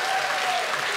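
A stand-up comedy audience applauds, a dense, steady burst of clapping that fills the whole moment at moderate volume, with no talking over it.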